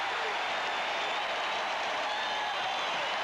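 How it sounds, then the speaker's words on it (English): A basketball crowd of SuperSonics fans in a 1980 NBA playoff game against Portland roars and applauds after a steal, a dense, steady wall of cheering and clapping with an announcer talking over it. "Sonic crowd going crazy"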